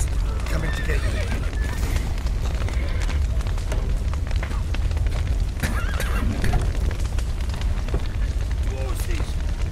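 Horses neigh and whinny in The Witcher 3: Wild Hunt amid a loud, chaotic backdrop of crackling and rumbling from a building with a collapsed roof, with voices shouting over the commotion.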